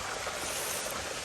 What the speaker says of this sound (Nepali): यस्तो छ खोला